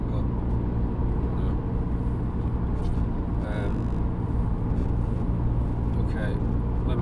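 A 2007 VW Golf GT TDI with the BKD diesel engine at about 3700 rpm, driving with a steady low droning hum and vibration inside the cabin under continuous road rumble, while someone talks over it.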